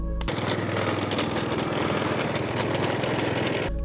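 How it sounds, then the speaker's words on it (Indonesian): A Honda Supra motorcycle engine idles close by with a dense, buzzing rattle, a rapid steady vibration that holds for several seconds. "motor Supra akan memiliki suara khas"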